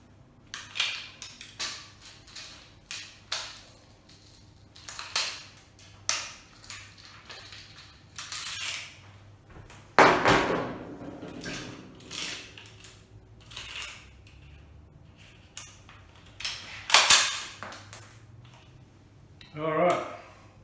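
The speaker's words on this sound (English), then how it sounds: "I'm going to basically find my last shot and then load it with a speedy loader" A rifle reloaded with a speed loader: metallic clicks, rattles and clacks come in irregular bursts, with a couple of louder impacts, while someone talks throughout.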